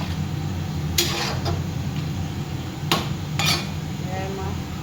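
Soft scraping and a few metallic clinks of a utensil stirring salted fish and bottle gourd in a pan, faint and intermittent over low background hum.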